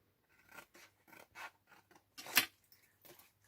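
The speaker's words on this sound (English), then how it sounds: "These scissors need sharpening." Scissors snip through stiff cardboard in a series of crisp, rasping cuts, about seven strokes spaced irregularly, close up with no talking.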